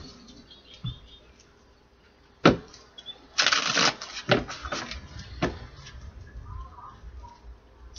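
Tarot cards being shuffled by hand, heard as a few sharp riffling bursts and soft papery slaps separated by quiet pauses, close and fairly faint, with no talking.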